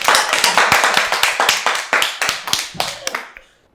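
A small group claps together in a brisk, uneven rhythm, the sharp hand claps loud and close at first, then thinning and fading out within a few seconds.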